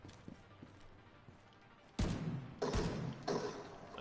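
Fireworks bursting from loot boxes in the video game The Division 2, a few heavy thumping pops with crackling tails in quick succession after a quiet start.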